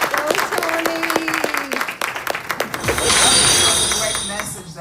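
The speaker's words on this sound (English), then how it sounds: "let's give him another round of applause" An audience applauds after a motivational talk, the clapping swelling and filling out in the latter half while a voice and a few clinks sound early on.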